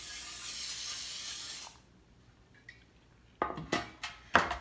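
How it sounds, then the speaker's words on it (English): Cooking spray hisses steadily from an aerosol can into a pan for about two seconds, close and fairly loud, followed by a few sharp clinks and knocks of the pan being handled. "spray it with cooking spray."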